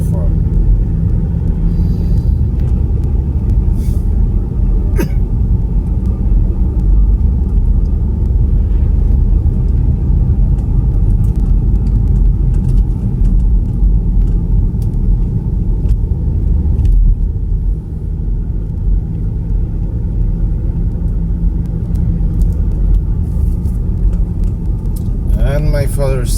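Steady low road rumble fills the inside of a moving car, a constant droning hum with faint rattles layered on top, heard close from the cabin without a break for the whole stretch.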